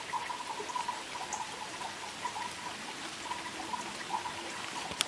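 Heavy rain pours down outdoors on a grey day, a steady soft hiss with scattered drips and trickles, moderately faint and continuous with no talking.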